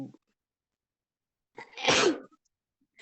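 A single loud, close sneeze in a classroom stands out against near silence, with brief faint sounds just before and after.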